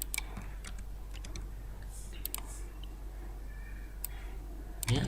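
Keyboard shortcuts pressed on a computer keyboard make sparse, light clicks scattered over a steady low hum and background hiss, some keys tapped in quick pairs.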